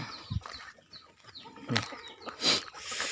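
A farm flock of chickens, including chicks and white and red birds alongside geese, clucking in short irregular calls at close to mid distance, with a few louder squawks breaking through.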